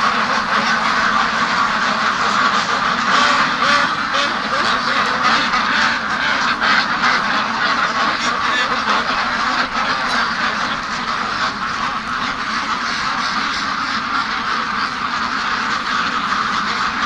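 Several wild ducks with black heads quack steadily alongside free-range ducks outdoors near a lake on a cold morning, a dense, continuous chorus of calls close by with no talking.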